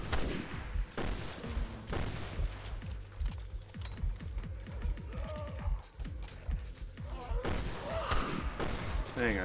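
Gunfire in the video game Resident Evil Revelations 2, a run of rapid shots in quick succession with some scattered single reports, moderately loud over game sounds.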